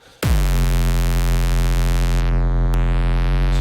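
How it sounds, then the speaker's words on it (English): A deep, buzzing sub bass synth note kicks in and holds steady, thick and gritty with distortion, loud and sustained throughout. "as we go up you can get that nice distortion"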